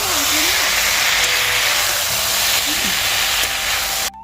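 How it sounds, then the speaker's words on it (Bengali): Leafy greens hit a hot pan already holding eggplant, potato, peas and flat beans, setting off a loud, steady close-up sizzle that runs without a break and then cuts off abruptly at the end. "শাকগুলো একটু দিয়ে দিলাম।"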